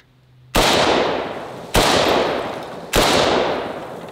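AK-47 rifle fired three times into a house wall, each shot a sharp, loud crack with a long decaying ring, spaced about a second apart.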